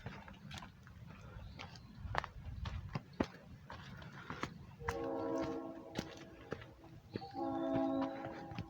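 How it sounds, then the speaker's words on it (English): A Cuyahoga Valley Scenic Railroad train passing beside a canal towpath in the valley sounds two long, moderately distant horn blasts over footsteps and outdoor rustle. "That's the Cuyahoga Valley Scenic Railroad. Down there going next to the towpath."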